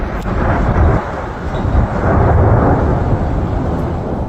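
Thunder rolling through a nighttime snow squall along an Arctic front in West Michigan, a loud, continuous low rumble that swells and sustains for several seconds with no voices.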